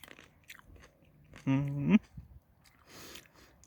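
A single crisp crunch as a grape berry is cut, close and brief, between quiet stretches with faint background noise.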